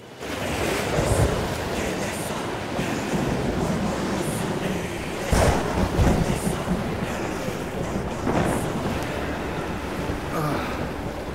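A storm at sea roars with continuous wind and crashing surf, a dense, loud wash of noise that swells in gusts around the middle and again near the end.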